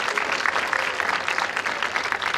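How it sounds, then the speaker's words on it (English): A school audience gives a round of applause, brisk, close clapping with an uneven, lively texture that continues throughout the short stretch. "you should all give yourselves a big round of applause"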